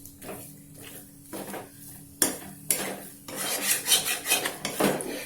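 Spoon scraping and stirring gram flour (besan) roasting in ghee in a pan over low heat, with intermittent clinks against the pan and a soft frying sizzle, growing busier toward the end, with no voices.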